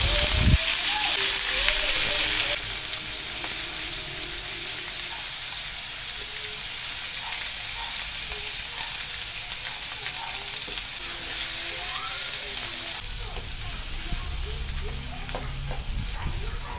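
Chicken pieces fry in a pan for chicken pochero, a steady loud sizzle throughout with occasional stirring, while a person talks over it.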